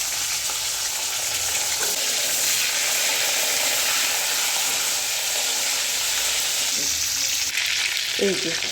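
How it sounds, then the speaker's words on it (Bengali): Crabs frying in oil in a wok, a loud steady hiss and crackle of hot oil heard up close, with a few faint clinks near the end. "এবার এই যে এই কাঁকড়াগুলোকে ভেজে নেব।"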